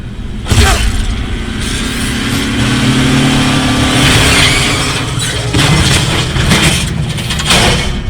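A go-kart engine in the video game Five Nights at Freddy's: Security Breach hums loud and continuous, with a sharp crash-like hit near the start and slight swells in revving.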